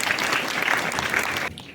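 Loud, sustained applause from an audience at a women's honour ceremony in Shimla, dense clapping filling the hall almost throughout before cutting off abruptly near the end.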